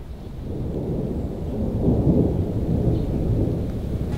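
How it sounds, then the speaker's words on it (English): Deep thunder rolls and rumbles continuously ahead of a storm, a low, loud, sustained roar that swells slightly midway, with no talking. "It's been thundering and rolling."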